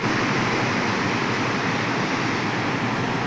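The flooded Krishna river near Rethare Budruk in Karad rushes past in a loud, steady roar of fast-flowing water, continuous and broad with no voices.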